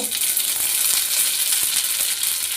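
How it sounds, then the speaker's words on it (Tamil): Mustard seeds crackle and sizzle in hot oil, with a dense, bright frying hiss and scattered pops, close up and continuous. "எண்ணெய் ஊற்றி கடுகு ஒன்று பற்றி தாளிக்கோங்க"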